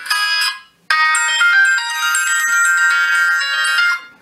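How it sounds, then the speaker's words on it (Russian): A Vernee T3 Pro budget phone plays a ringtone melody through its loudspeaker: a loud, bright electronic tune with a short burst, a brief pause, then about three seconds of continuous melody. "на разные сим-карты можно ставить разные мелодии"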